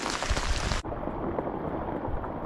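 Rain falls steadily on an outdoor fishing spot in Colorado, a dense broadband hiss that continues unbroken without a pause, with no voices over it.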